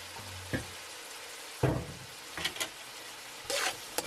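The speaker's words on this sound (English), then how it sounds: "Next, I am going to stir fry the ingredients until everything is a little bit translucent" Onions, peppers and mixed vegetables stir-fried in a pan for turmeric rice with shrimp, a soft steady sizzle broken by four short scraping bursts as the ingredients are tossed, close by with no talking.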